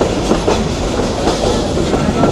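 A passenger train on the Dhaka to Mohonganj line rolls along with a loud, continuous rumble and a rhythmic clickety-clack of wheels heard from on board.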